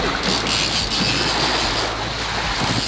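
Large ocean waves surge and crash around a small boat off Cape Verde, with heavy wind buffeting the microphone in a constant roar.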